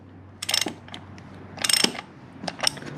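A ratchet wrench snugging the oil filter on a Triumph Rocket 3 GT motorcycle during an oil change, three short bursts of quick clicking, close and fairly quiet.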